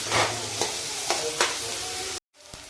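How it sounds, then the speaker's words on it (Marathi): Finely chopped onion sautés in a pan for a gavar sukki bhaji, a steady sizzle broken by a few scraping stirs, then a sudden cut to near silence before the frying resumes more quietly. "आणि आता बारीक चिरलेला कांदा टाकते। कांदा हा चांगला परतून घेते।"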